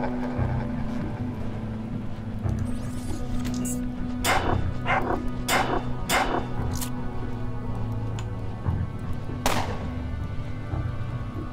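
A dog in the video game Underrail barks in several short, sharp bursts spread over a steady low background hum.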